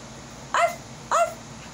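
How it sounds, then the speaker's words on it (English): A small dog barks twice in quick succession, sharp and close, as a sound effect in a read-aloud children's story, with quiet background between the barks. "Teddy barked from Jack's backpack."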